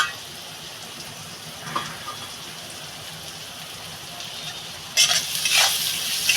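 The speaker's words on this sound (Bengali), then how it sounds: "এবার একটু এটা ভেজে নেব" Onion and tomato fry in a pan for a Bengali rui fish-head muri ghonto, giving a steady close sizzle with occasional stirring scrapes and a louder burst of crackling near the end.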